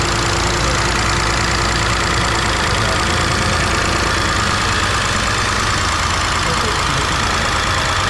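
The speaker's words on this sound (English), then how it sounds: "It's a slight misfire." A BMW E46 engine idles with a slight misfire, producing a loud, close, continuous rumble with an uneven, lumpy beat.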